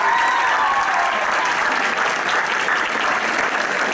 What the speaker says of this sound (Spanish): vamos a darle un nuevo aplauso y fuerte bienvenido